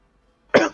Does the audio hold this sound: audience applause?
no